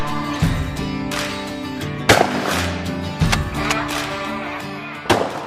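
A shotgun fires at clay targets outdoors, with four sharp, loud reports spaced a second or more apart over a steady tonal background.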